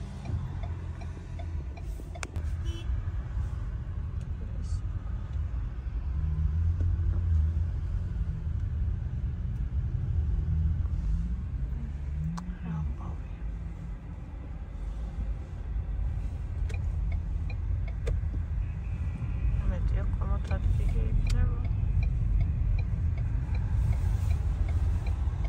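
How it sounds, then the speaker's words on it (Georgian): A car drives slowly through a crowded shopping-mall parking lot, its steady low engine rumble continuous and close, with a faint ticking sound running along under it and no talk. "როგორც იქნა დავაყენებ მანქანა."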